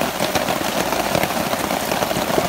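Steady rain falling at a campsite, a dense, continuous hiss and patter of drops on surfaces, close and even throughout with no voices.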